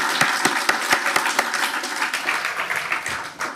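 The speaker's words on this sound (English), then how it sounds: "let's give her a round of applause." An audience at a book launch applauds, starting with a few distinct rhythmic claps that quickly swell into dense, steady clapping before easing off.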